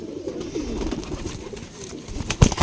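Pigeons cooing inside a breeder's loft, soft low murmuring coos running continuously with a brief louder knock near the end, no speech.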